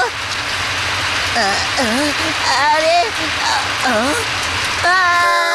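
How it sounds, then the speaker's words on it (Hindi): Steady rain pours down with a dense, constant hiss while children talk and call out over it. "हाँ, बारिश और इस वक्त भागो।"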